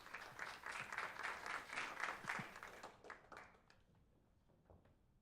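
Audience applause at a startup pitch event, a few seconds of dense clapping that thins out and fades to scattered claps.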